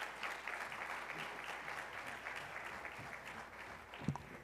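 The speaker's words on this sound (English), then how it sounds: "Let's give them a round of applause as they come." An audience at a town hall meeting in Newark applauds in a steady, moderate wash of clapping, fairly distant and even, with a brief louder knock near the end.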